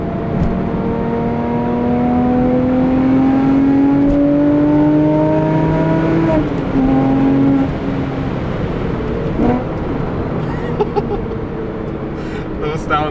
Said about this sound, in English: Those downshifts.